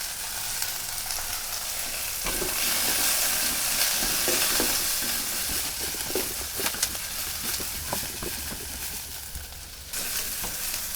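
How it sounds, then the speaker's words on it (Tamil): Cinnamon and cloves fry in a pan with a steady sizzle and crackle, close up, joined by scraping stirs and scattered pops, with no one speaking. "பட்டை கிராம்பெல்லாம் சேர்த்துக்கலாம்."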